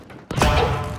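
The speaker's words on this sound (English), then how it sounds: "Bloody Claymore!" A Claymore mine detonates in the video game Ground War: one sudden, loud, close blast with a deep boom that rolls on and decays.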